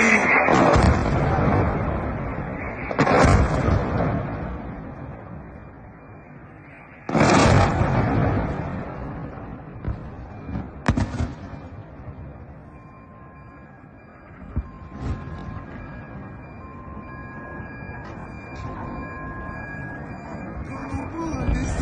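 Heavy booming explosions from Russian missile and drone strikes on Ukraine, several loud blasts spaced seconds apart with rumbling aftermath and background noise.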